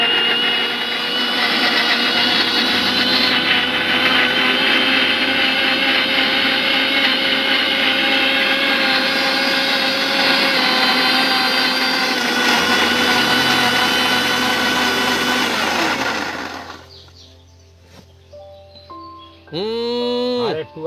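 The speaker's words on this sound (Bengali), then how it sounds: "মিক্সিও কিন্তু কিছু কিছু ক্ষেত্রে কাজের দেয়। এবার দেখুন চালিয়ে দিচ্ছি।" A mixer grinder blends spinach with a little water for palak paneer, a loud steady whirring motor running for about fifteen seconds before stopping, followed by a brief voice.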